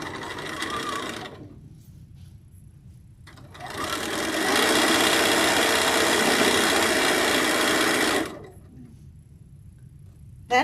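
A home sewing machine stitches fabric in bursts: a short run, a pause, then a long steady whir of several seconds before stopping, close and loud over quiet room tone.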